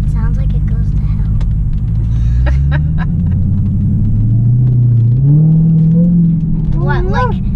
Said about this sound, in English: Yeah, we are in a Hellcat. It sounds like it goes to hell.